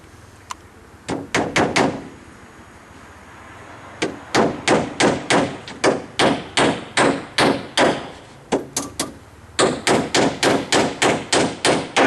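Twist decking nails driven into a deck roof with a hammer: sharp, close metallic blows in quick clusters of three to six strikes, separated by short pauses.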